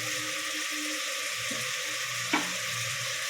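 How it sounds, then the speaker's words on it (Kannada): Onion, carrot and green chillies frying in oil give a steady, even hiss near at hand, with one brief clink or stir partway through and no voices. "ಹಾಕ್ಕೊಂಡು ಚೆನ್ನಾಗಿ ಫ್ರೈ ಮಾಡ್ಕೋಬೇಕು"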